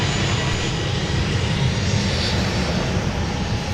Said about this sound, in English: We've got a Prime Air on the Mike taxiway.